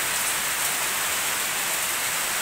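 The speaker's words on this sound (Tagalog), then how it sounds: "lakas ang ulan." Heavy rain pours down steadily, a dense, even hiss with no other sounds.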